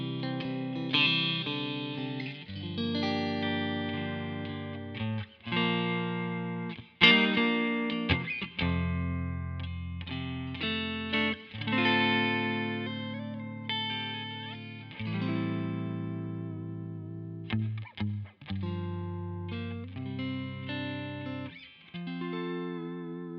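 Electric guitar through an Underdog Chuck amp into a Palmer 1x12 cabinet with a Celestion Vintage 30 speaker, played as a continuous distorted riff of sustained chords and single notes with brief gaps, loud and up close, no voices.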